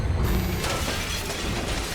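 Glass shattering in the video game 007 First Light, a loud crash with scattered breaking debris filling about two seconds, no talk.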